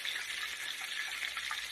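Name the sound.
catfish frying in a pan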